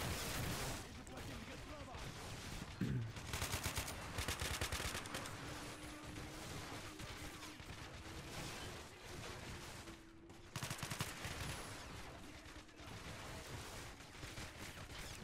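Dense, rapid video game gunfire in a combat scene, with sharp repeated bursts and impacts on sandbags crackling continuously at close range, broken by a few brief lulls and a low steady engine drone underneath.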